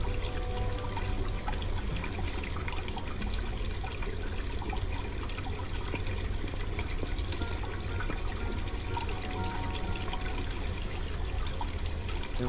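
Running water in the Black Mirror 2 adventure game, hot water pouring in a bathroom, a dense continuous rushing splash that holds steady without pause.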